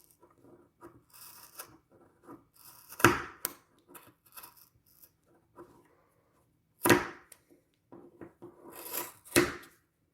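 Scissors cut the ends of macrame cord on a mandala wall hanging, giving three sharp, close snips spaced several seconds apart amid faint rustling of the cord.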